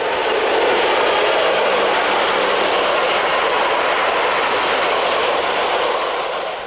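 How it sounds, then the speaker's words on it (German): A DB class 144 electric locomotive hauls a train past near Steinbach am Wald, a loud, steady rumble of rolling wheels and rail noise that holds throughout with no pauses or talk. "Nördlich von Steinbach am Wald eine Begegnung mit einer Lok der Baureihe"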